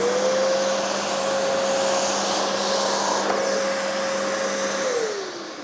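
A Vacmaster D8 vacuum cleaner sucks dirt and debris off a tile floor, holding a loud steady whine with a constant motor hum that drops in pitch and fades as it winds down near the end; no one speaks.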